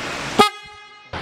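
Stock horn on a Honda PCX 160 scooter gives one short, loud toot of about a tenth of a second. It rings with a bright, buzzy tone, sounds close, and is followed by a brief quiet before another sound starts.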